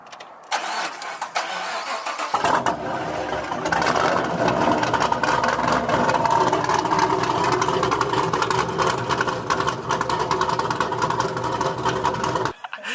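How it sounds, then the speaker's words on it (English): A car engine with a straight-pipe exhaust and muffler deletes fires up and settles into a loud, raspy idle with a few blips of throttle, rough and unmuffled, heard up close. "This is basically straight pipe with muffler deletes."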